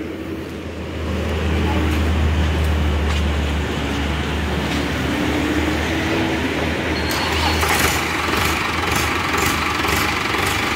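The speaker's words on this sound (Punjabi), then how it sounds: "ਭਾਈ ਥੋੜੀ ਨਾ ਆਵਾਜ਼ ਸੁਣਾਓ ਚੈੱਕ ਕਰੀਏ ਆਪਾਂ ਟਰੈਕਟਰ ਦੀ" A tractor with power steering idles and runs steadily close by, a continuous low engine drone with a slight rise in the revs partway through.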